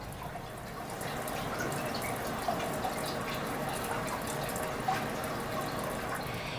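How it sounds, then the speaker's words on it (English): Tap water runs steadily and quietly as it flushes a burn, a soft continuous splashing stream with faint drips and no talking. "Flush the skin as quickly as possible with running water until aid is available."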